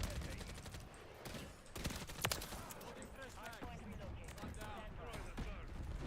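Gunfire in Modern Warfare 3 as a fire mission strike lands: rapid bursts of shots and sharp impacts repeating throughout, moderately loud, with game callouts and chatter mixed in.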